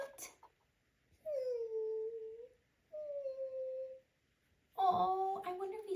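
A dog whimpering in a role-play scene, two drawn-out whines in succession, clear and close in a quiet room, followed by a higher-pitched whine.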